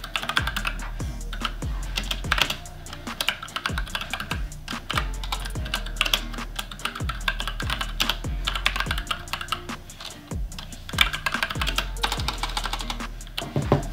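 Rapid typing on a full-metal premium keyboard with an OLED display and volume wheel during a typing test, a steady close stream of crisp key clacks with frequent heavier thumps, no talking.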